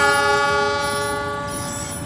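Tank wagon freight train pulling away from Tegal toward Maus, its horn sounding a long, loud, sustained tone over steady rolling rumble that fades slightly toward the end.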